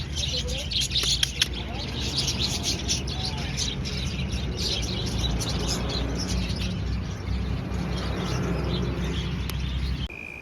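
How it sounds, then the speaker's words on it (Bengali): Small birds chirp and tweet in a busy outdoor spot, their calls scattered through a dense wash of traffic hum and crowd murmur, with people talking nearby. "এখানে শুনতে পারবেন আপনারা পাখির কিচিরমিচির শব্দ"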